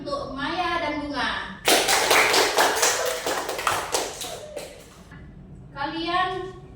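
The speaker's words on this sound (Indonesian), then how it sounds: "Berikan tepuk tangan untuk Maya dan Bunga." Students in a classroom clap together for two classmates during a teaching practice lesson, a loud burst of quick hand claps lasting a few seconds, with a voice speaking just before and again after.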